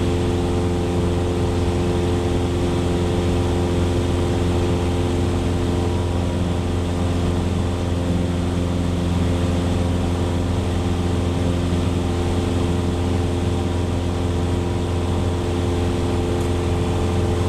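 A 100-horsepower Cessna engine droning steadily during climb-out, a loud, constant propeller hum with no change in pitch or level throughout.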